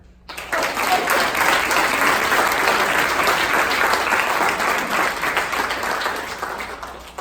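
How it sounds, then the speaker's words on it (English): Sustained, dense applause from an audience welcoming a speaker to the stage, rising abruptly after a short quiet and holding loud and even for several seconds before easing slightly. "please give a round of applause"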